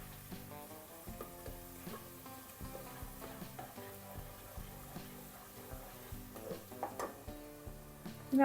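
Three tablespoons of finely minced garlic sizzle in hot oil, a steady close frying crackle with occasional light clinks of a utensil, ending in a louder burst.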